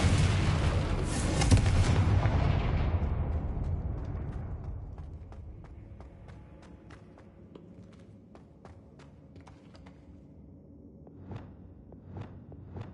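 A Confringo fire-blast spell explodes in the Hogwarts Legacy video game, a loud booming blast that rolls and fades over several seconds into scattered crackles and small pops.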